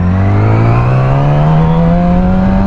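A motorcycle engine held at a stop with the clutch in, then given a little throttle, gives a loud, steady, close rev whose pitch climbs slowly and evenly, with no voices over it.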